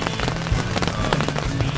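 Rain patters steadily on an REI Quarterdome tent, a dense, close, fairly loud crackling of drops that fills the whole moment without talk.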